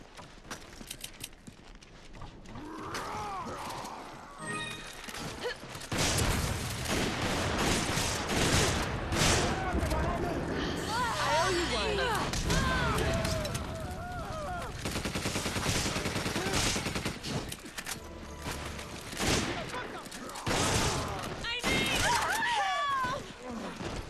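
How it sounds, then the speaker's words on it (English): Gunfire from the video game Resident Evil 5 in an online versus match: bursts of rapid automatic and single shots mixed with game noises and footsteps over about twenty seconds, with a voice talking over it at times. "Gunfire."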